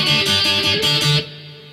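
Electric guitar plays the intro riff of a song in steady, driving downstroked chords, a loud run of rapid strums that stops after about a second and leaves a short ringing decay.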